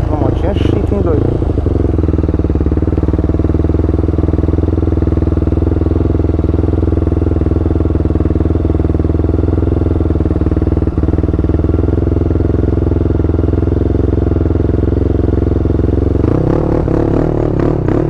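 A 160 Start motorcycle fitted with a 410cc engine, ridden on a road, gives a loud steady engine drone with wind rush throughout, swelling at the end, with a rider's voice under it.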